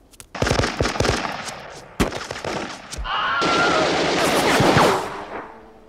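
Gunfire laying down covering fire in a war drama: rapid bursts of automatic shots and sharp single cracks, loud and close, followed by a sustained roar of firing and explosion-like noise.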